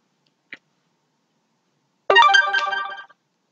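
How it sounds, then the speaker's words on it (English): A mobile phone's ringtone sounds briefly in a quiet room, a short bright melodic burst of about one second after a faint earlier click. "that is my phone. What else would it be?"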